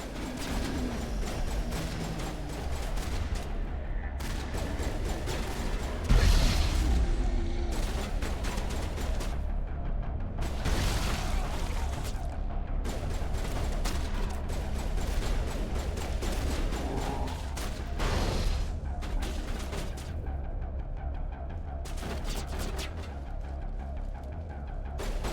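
Gunfire and grenade blasts from a Mass Effect firefight among Prothean ruins crackle in repeated bursts throughout, with one heavier thump of an explosion early on, over a steady rumbling background.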